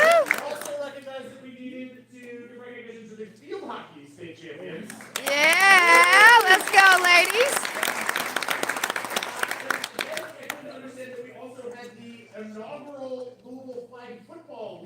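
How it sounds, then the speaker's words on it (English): Cross-country runners at a school gathering get a brief burst of clapping and cheering from the crowd, rising loud for a few seconds between stretches of talk, with children's voices and a baby crying nearby. "Can we give a round of applause?"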